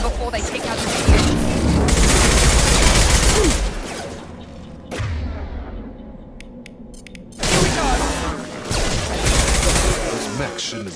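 Video game firefight against Fenris mechs at a colony, with dense rapid gunfire bursts and booms filling most of the stretch, pausing briefly midway before resuming loudly.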